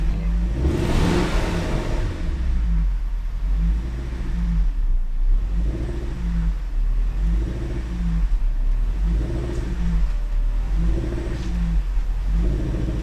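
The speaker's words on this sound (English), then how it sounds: "It's still running on bad gas, it's still running rich." A supercharged Range Rover engine idles rough and rich on bad gas, its low rumble swelling and dipping in a regular surging rhythm, close and continuous with no talk.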